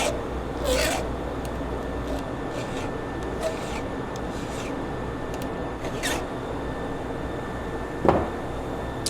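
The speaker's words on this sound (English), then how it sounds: "anytime you sharpen a saw, you just want to hit the rakers a little bit" A chainsaw chain is being sharpened by hand with a file, giving soft, repeated rasping strokes at a close, quiet level over a low background hum, with a few sharper scrapes spaced through the clip.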